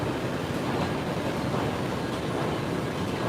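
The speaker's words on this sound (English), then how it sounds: "this is a train station in DC" Train at a station in Washington, DC, heard as a steady, loud broadband rumble of rolling rail cars with faint clickety-clack, continuous throughout with no voices.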